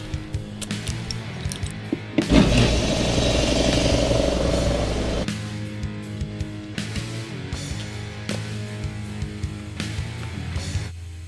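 A DRZ pit bike motorcycle engine fires and revs for a few seconds of loud, rough running, then drops to a quieter idle patter punctuated by ticks and clicks, close by with no talk.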